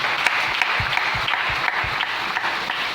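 A church congregation applauds together, a steady wash of many hands clapping at even loudness for the whole stretch, with a few low thumps underneath and no talking.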